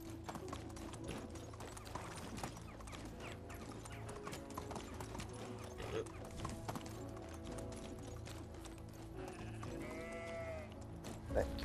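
Sheep bleat in the medieval village game Medieval Dynasty, a clear bleat rising near the end over a constant clip-clop of a ridden horse's hooves and rural ambience.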